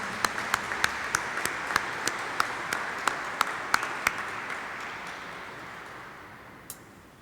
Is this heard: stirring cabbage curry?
no